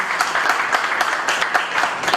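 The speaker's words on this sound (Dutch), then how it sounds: "Applaus ook voor de heer" Clapping from a seated audience honouring an examiner at a bachelor presentation, a brisk, dense burst of many hands at fairly close range lasting a couple of seconds.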